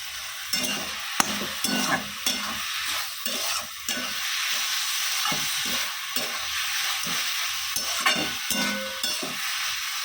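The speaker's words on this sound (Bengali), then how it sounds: "শাক ভাজাটা হয়ে এসছে" Leafy greens (shak bhaja) frying in a pan, giving a steady close sizzle broken by repeated scraping, stirring strokes throughout.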